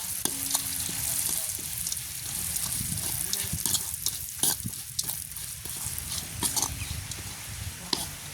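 Laddu ingredients sizzle and fry in a pan in a village kitchen, with steady broadband crackle and intermittent scraping stirs throughout, and a few brief voice-like sounds underneath.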